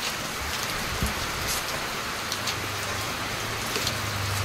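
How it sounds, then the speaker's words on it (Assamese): Heavy rain pouring down at the Meghalaya border on the way from Guwahati, a dense, even hiss of drops drumming on surfaces with faint low rumbles underneath. "চাওক সেইফালে তামাম বৰষুণ দি আছে"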